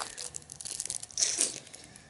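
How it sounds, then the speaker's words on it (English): Plastic shrink wrap crinkles and tears off a Yugioh Wave of Light structure deck, a quick burst of close, crisp rustling and ripping lasting about two seconds. "So let's get this wrapping off and I'll have a quick flick through the deck."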